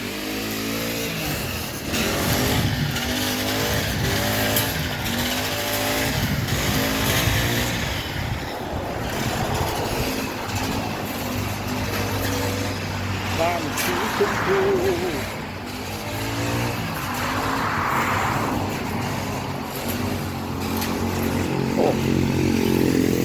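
A tractor's diesel engine rumbles and revs steadily, rising and falling as it drives and backs up, with people talking in Thai over it throughout.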